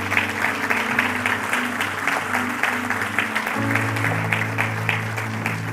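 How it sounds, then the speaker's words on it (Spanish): Applause fills a church service, steady broadband clapping running throughout over sustained organ or keyboard tones that shift partway through. "den un aplauso al Señor"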